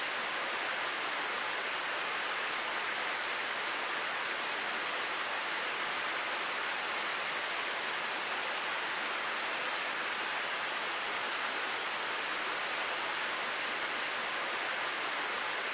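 Steady rain falls in a scene from the game Higurashi When They Cry, an even, hissing wash of noise that holds unchanged throughout with no voices.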